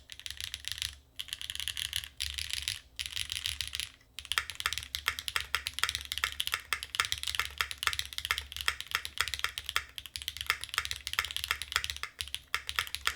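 Rapid clacky keystrokes on a foam-filled TB-65F mechanical keyboard with HMX Arowana switches, a few short bursts with pauses at first, then continuous fast typing, close and crisp.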